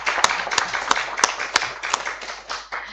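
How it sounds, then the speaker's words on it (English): An audience at a national stakeholder roundtable and report launch claps. Several sharp, separate claps stand out over a steady wash of softer clapping and room noise. "Can we clap for them?"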